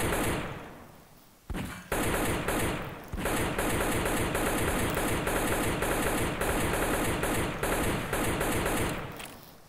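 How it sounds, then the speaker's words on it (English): Magnum gunfire in the Garry's Mod video game, loud and nearly continuous for most of the stretch, with rapid shots run together after a brief opening lull and short gaps. "I'm shooting with a magnum."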